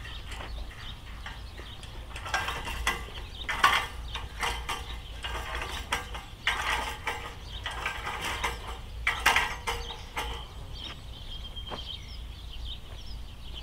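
Woven wire fence being tightened with a tensioner: repeated ratcheting clicks and metallic creaks come in irregular bursts against outdoor background noise, with faint birdsong and no talking.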